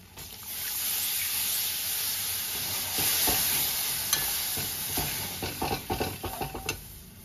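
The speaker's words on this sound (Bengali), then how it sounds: "ময়দাটাকে ভালো করে মিক্স করে নেব।" Flour being worked into butter in a bowl, steady scraping and stirring strokes close by, getting choppier with sharper clicks toward the end.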